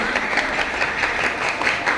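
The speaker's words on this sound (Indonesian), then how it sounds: "Berikan tepuk tangan yang meriah untuk kandidat calon nomor urut 3" Students applaud a candidate at a school student-council debate, a steady, dense wash of clapping that stays fairly even and moderately close for its whole length.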